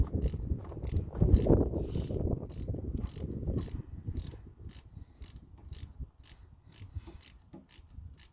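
A hand ratchet clicks steadily in quick, even strokes while tightening bolts on a rear brake being installed, close up with no speech.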